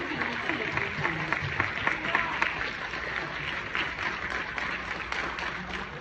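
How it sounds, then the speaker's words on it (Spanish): An audience applauds actress Susana Zabaleta at a film festival Q&A, a sustained wash of many hands clapping from a crowd, steady and moderately loud for several seconds, with a faint murmur of voices underneath. "denle otro aplauso a Susana Zabaleta, por favor"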